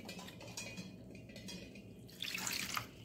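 Water poured over soaked fenugreek seeds as they are washed in a kitchen: a quiet, close trickle and splash with light drips, swelling briefly near the end.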